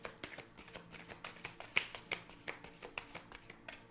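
Rapid riffle of tarot cards being shuffled, a steady stream of crisp papery flutters and snaps, close by and fairly quiet, with no voices.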